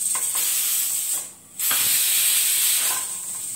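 Steam hisses steadily from a pressure cooker on a gas stove after cooking rice, a loud continuous rush that drops out briefly before resuming at full strength.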